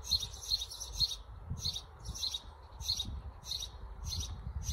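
Birds in a park chirp in repeated bright bursts, a steady rhythmic series of tweets fairly near over a low outdoor rumble, with no one talking.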